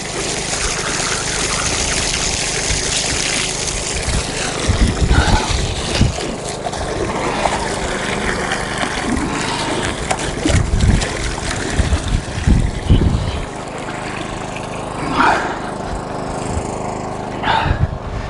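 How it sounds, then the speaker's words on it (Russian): A generator drones on nearby while a deep well pump draws drinking water for sheep, with water trickling and splashing intermittently over the steady engine hum. "Все, глубинный насос накачивает"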